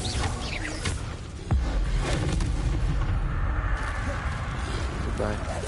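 Incendio and Confringo fire spells in Hogwarts Legacy on PS5 go off as booming blasts and crackling impacts in quick succession, loud and close over constant game noise, with a voice talking throughout.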